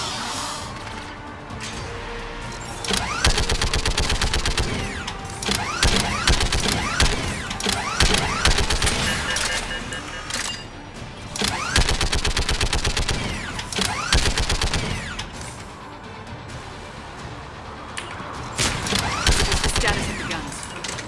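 Automated turrets in Mass Effect 3 open fire in repeated rapid bursts of gunfire, mixed with mechanical clanks and whirs, busy and loud throughout amid other game sounds.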